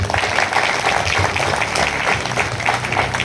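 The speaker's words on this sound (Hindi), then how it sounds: "एक बार अपने लिए जोरदार तालियां बजाइए।" Applause from a small audience of about fifty to sixty at a poetry recital, dense steady clapping that fills the whole stretch at a fairly loud level with a faint murmur of voices underneath.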